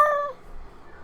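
A single short cat meow in the Final Fantasy XIV video game, clear and close, fading quickly into quiet background.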